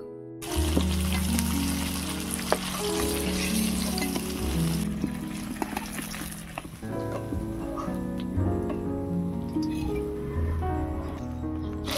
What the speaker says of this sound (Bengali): আবারও বাকি মাছগুলো ভেজে নেব।